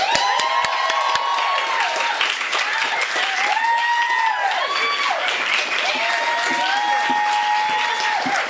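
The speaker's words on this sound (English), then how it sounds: "big, big, big round of applause for Lilibet Snellings" A crowd applauds and cheers for author Lilibet Snellings at a reading from her book Box Girl. Dense, steady clapping runs throughout, with rising and falling whoops and shouted cheers riding above it.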